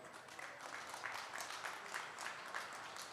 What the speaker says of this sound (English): Let's give these exhibitors a nice round of applause for the quality they brought out.